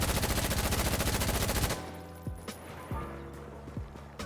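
A Honey Badger rifle fitted with a foregrip fires a rapid full-auto burst in Insurgency: Sandstorm, loud and evenly paced, then stops abruptly, leaving sparse thuds and mechanical clicks.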